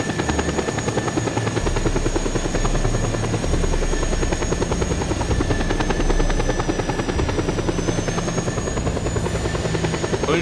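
A helicopter flies in the Just Cause 2 video game with a loud, constant rotor thump and a high turbine whine. The sound holds steady throughout with no speech over it.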